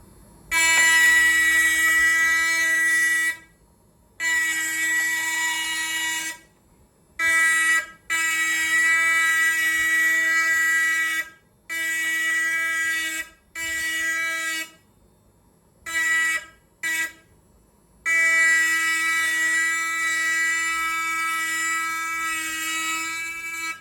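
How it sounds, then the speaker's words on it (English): An engraving machine works a metal surface, giving a loud, harmonic, horn-like whine in repeated bursts of varying length, separated by short silent gaps. "Okay, so now I'll just start the machines."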